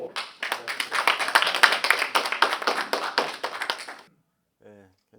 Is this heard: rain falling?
no